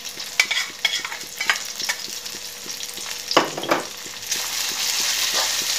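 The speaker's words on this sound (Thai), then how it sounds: "ผัดให้พริกกับกระเทียมหอมผัดไปก่อนครับ" Oil sizzles steadily in a hot wok as chili and garlic are stir-fried for Thai shrimp pad kra pao, a utensil scraping and stirring in quick repeated strokes, close up, with no talking.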